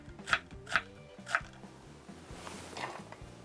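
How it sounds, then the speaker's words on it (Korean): Knife slicing half an onion thinly on a cutting board, three sharp close chops at a steady pace followed by softer scraping and handling noise. "이렇게 반으로 나눈 다음에요, 얇게 썰면 됩니다."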